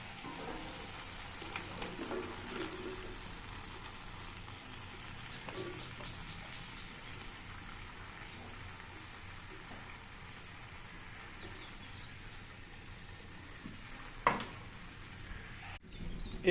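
Chopped vegetables tipped into spiced oil in a home kitchen pan give a soft, continuous sizzle and crackle, low and steady, with a few clinks of a utensil stirring near the end.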